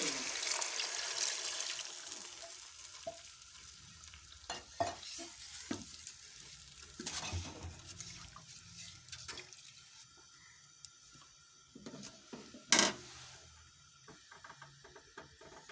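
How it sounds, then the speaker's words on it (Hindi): Water poured into a pan of frying mixed vegetables seasoned with salt, turmeric, cumin and ground coriander, bringing loud hissing sizzle, stirring clatter and splashing, with a sharp burst near the end. "अब हम इसमें पानी डाल देंगे"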